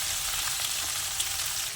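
Cumin seeds sizzle quietly in oil in a pan while a Telangana-style bitter gourd karam is prepared, giving a soft, even crackle with no voices.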